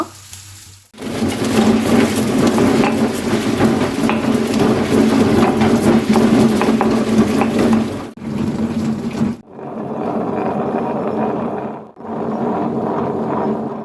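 An electric mixer-grinder whirs loudly in a steady grinding burst as it grinds a spice paste with an onion, then stops and restarts in two shorter pulses after brief pauses.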